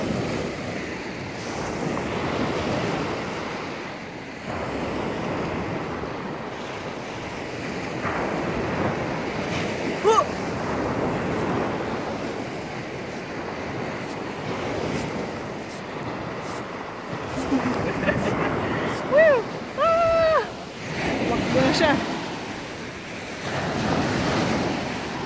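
Ocean surf rolls and crashes continuously against a sandbar shore at Kalanggaman Island, Leyte, Philippines, mixed with gusty wind buffeting the microphone and a few faint distant voices.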